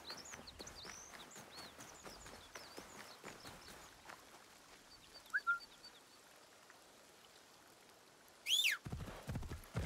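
A horse in Assassin's Creed Shadows walks with soft, quiet hoofbeats amid birdsong and light outdoor ambience, then a brief louder burst near the end.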